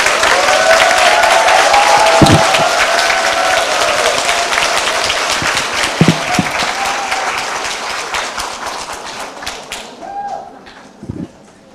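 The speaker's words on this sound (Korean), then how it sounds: "뜨거운 박수로 맞이하여 주시기 바랍니다." Audience applause at a humanities reading academy lecture greets a guest author, a loud dense clapping that holds steady for about ten seconds, then thins out into scattered claps and fades.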